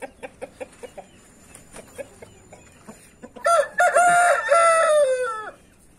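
A grey rooster crows loudly and close by, a long wavering call that follows a series of soft clucks and taps.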